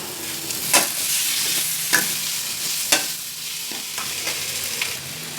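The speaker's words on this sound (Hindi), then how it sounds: "बड़े बड़े प्याज हमने काट करके रखे थे इसको डाल देंगे। इसको हल्का सा भून लेंगे हम।" Coarsely chopped onions sizzle as they are lightly fried in a pan, a steady crackle broken by several sharp scraping clacks as a spoon stirs them.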